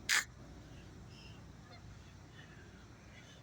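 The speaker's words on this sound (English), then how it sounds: "most of these geese and mallards will finally head south" A single short goose honk sounds near the start, then only a quiet outdoor hush remains, as snow falls.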